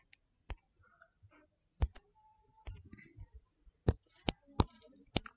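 A pen or chalk writes on a classroom board, making sparse, irregular sharp taps and short scratchy strokes, fairly faint, with a little quiet voice-like murmur between strokes.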